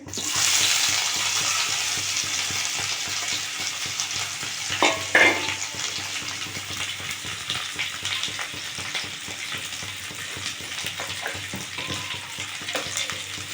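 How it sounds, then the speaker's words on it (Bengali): Dried loitta fish fries in hot oil with a loud, steady sizzle and crackle, punctuated by a few sharper stirring scrapes and clinks around the middle, with no talking. "তেল দিয়ে দিচ্ছি শুটকি মাছটা ভেজে নেব একটু"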